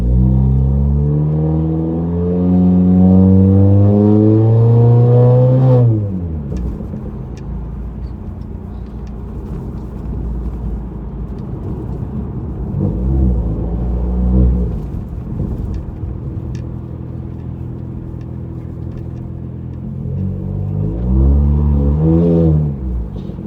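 A 2019 Honda Accord Sport 1.5T with a Flowmaster exhaust, heard from inside with the windows closed in normal drive mode: a loud, deep engine drone rising and falling through repeated acceleration pulls, with quieter cruising in between.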